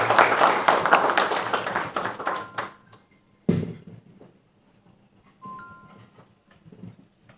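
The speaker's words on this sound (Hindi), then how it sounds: "दिल खोल के ताली बजाइएगा जरा एक" Crowd clapping at a cricket tournament opening ceremony, a loud burst of applause that fades out after about three seconds, followed by a single sharp clap and scattered faint sounds.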